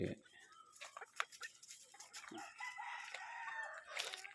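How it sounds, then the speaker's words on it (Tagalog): Chickens cluck and a rooster crows amid a busy outdoor backdrop at a free-range area, with people talking throughout, the calls fairly faint and distant. "Ito na yung mga manok sa range."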